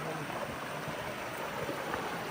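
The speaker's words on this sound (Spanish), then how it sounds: "es una de las tantas cascadas que hay aquí" Steady rushing waterfall in a park in Cuba, a broad continuous wash of falling water heard close and fairly loud with no break, alone without voices.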